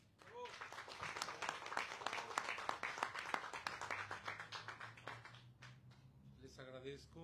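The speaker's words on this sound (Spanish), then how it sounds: "para que pida un fuerte aplauso" Audience applause at a press conference about the San Francisco de Asís festivities: dense, steady clapping from a room of people, fairly close, thinning toward the end as a voice begins to speak.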